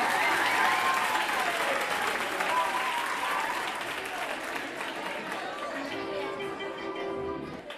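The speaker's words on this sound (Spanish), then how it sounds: "¡Venga! ¡Un aplauso!" Lively applause from the audience at a school concert, thick clapping that slowly thins toward the end, with cheering and voices mixed in beneath the hands.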